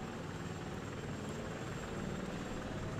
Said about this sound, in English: Oh my god, look at those propellers.